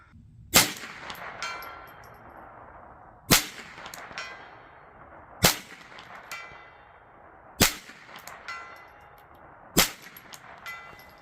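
Ruger 10/22 rifle shots striking a steel gong 150 yards away, five sharp metallic clangs with ringing decay, spaced about two seconds apart, alone with no talk.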